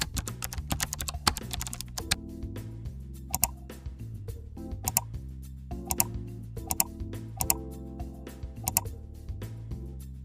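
Clicks of someone typing on a computer keyboard in bursts of quick keystrokes, clear and close, over steady background music.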